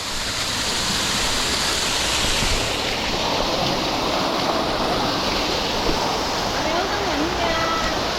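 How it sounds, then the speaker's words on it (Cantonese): Steady, loud rushing roar of a waterfall at Longwood Gardens fills the whole clip, with faint voices murmuring underneath toward the end. "呢度瀑布喎。"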